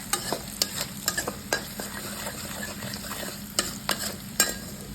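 Masala spices with coarsely crushed red chillies and dried fenugreek leaves sizzle and fry in a pan while a spoon stirs them, scraping the metal in sharp, irregular clicks over a steady low crackle.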